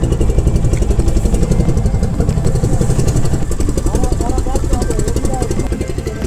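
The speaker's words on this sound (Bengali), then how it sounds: "আমাদের নৌকা ছাড়লো।" A wooden boat's engine runs loud and close as the boat pulls away, a steady, rapid mechanical chugging with clattery overtones that holds unbroken throughout, with voices faintly present underneath.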